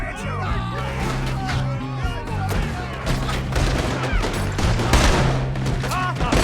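Gunfire in a video game shootout, with rapid bursts of shots crackling almost nonstop over an underlying musical score and scattered shouting, loud and close throughout.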